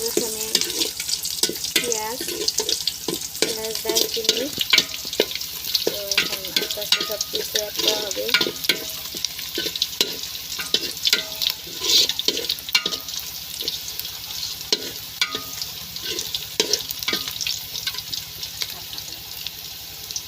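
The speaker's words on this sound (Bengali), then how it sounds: "ঈদের মাংস রান্না করা হচ্ছে শাশুড়ি মা রান্না করছে" Beef for Eid cooks in a pot in a village kitchen, sizzling and frying with repeated stirring scrapes and clatters, and occasional water sounds through the busy stretch.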